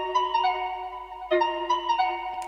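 Dry key patch from Analog Lab plays a simple repeating melodic pattern with no effects, clean tonal notes sustaining with small pitch steps, alone and moderately loud.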